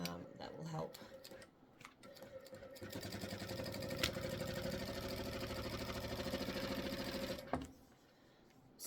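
A sewing machine runs a steady, buzzing stitch through vinyl while sewing a pocket. The fast mechanical whir carries on for several seconds before stopping, with a few handling clicks at the start and end.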